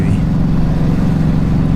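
A Ducati Hypermotard motorcycle cruises in touring mode on a ride through Switzerland, with a steady low engine drone and road rumble. Wind noise is heard briefly and someone talks over it.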